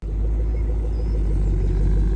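A V8 Land Rover Defender 90 fitted with Miltech exhausts idles close by, giving a steady, deep, throbbing exhaust rumble that stays loud and even throughout with no talk.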